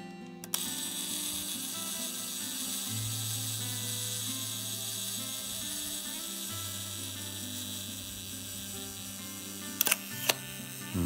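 Pentacon Six medium-format film camera on a 2-second self-timer: a steady, close mechanical buzz runs for several seconds, then the shutter fires with a couple of crisp, loud clacks.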